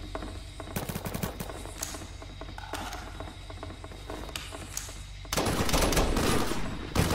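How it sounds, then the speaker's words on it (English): Video-game machine gun fire from a helicopter rescue mission game rattles in rapid bursts over a constant engine drone, growing louder and denser toward the end. "I could use the machine gun on that guy."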